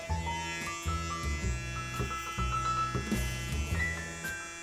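Electric hair clippers buzz steadily while cutting a man's hair, a close, continuous drone with small shifts in tone as the blades move across the head.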